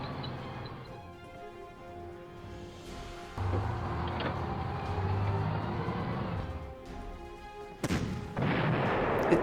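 Artillery in the Panzer Corps strategy game pounds a Panzer III H tank, heard as rumbling game battle effects with deep booms over a droning background and a sharp loud burst near the end.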